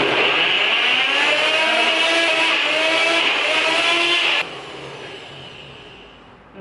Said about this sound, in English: And now we can blend her up. So, put it on the NutriBullet,